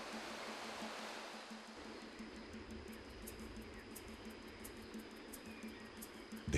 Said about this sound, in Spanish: El murmullo del agua permite apenas percibir la suavidad de la mosca al caer